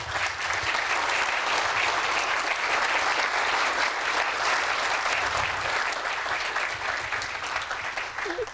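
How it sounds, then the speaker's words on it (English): Sustained audience applause fills a Good Scout award ceremony, a dense, steady roar of many hands clapping at close range that holds loud throughout with no talk over it. "please join me in one last round of applause for our 2023 Good Scout, Paula Langme."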